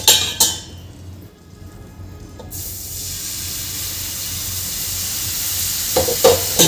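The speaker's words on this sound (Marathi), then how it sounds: "इथे मी दूध घालत आहे." Milk poured into roasted flour in a hot pan for spinach soup, giving a few clinks at the start, then a sudden loud, steady sizzle and hiss that fills the rest of the clip, with a couple of utensil knocks near the end.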